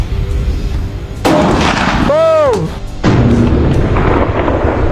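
A tannerite target exploding after being shot, a sharp close boom followed by a rumbling tail, with voices heard around the blast.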